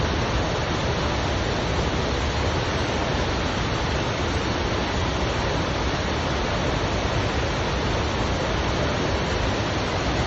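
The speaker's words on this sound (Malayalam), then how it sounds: "അതിരപ്പള്ളി വെള്ളച്ചാട്ടം" Athirappilly waterfall in Kerala roars as a loud, steady broadband rush of falling water, unbroken and without any voices for the full stretch.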